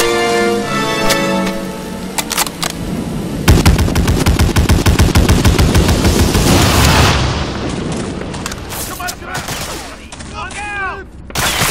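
Rapid bursts of machine gun fire with booming explosions in the World War II shooter Medal of Honor Breakthrough, Monte Cassino mission, loud and sustained across a busy battlefield mix with scattered distant shots.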